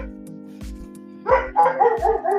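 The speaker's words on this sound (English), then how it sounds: "I'm sorry if you hear a dog bark. It's my neighbor's dog." A neighbour's dog barks several times nearby, in short bursts over a steady background hum, while a sports podcast is being recorded indoors.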